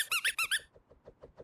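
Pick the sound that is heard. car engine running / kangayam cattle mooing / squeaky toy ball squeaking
squeaky toy ball squeaking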